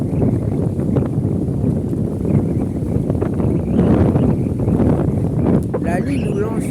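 Strong wind buffets the microphone during fishing at a bay, a constant low roar and rumble, with a voice speaking briefly near the end.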